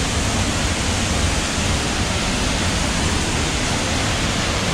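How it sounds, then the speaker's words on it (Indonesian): The Sekar Langit waterfall roars steadily and loudly up close, a dense unbroken rush of falling water with no voices. "Dan ini merupakan air terjunnya."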